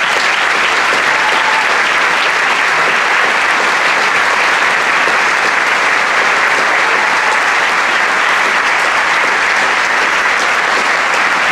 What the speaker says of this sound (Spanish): Todos los maquilladores, realizadores, por favor, también que suban y que se merecen ese fuerte aplauso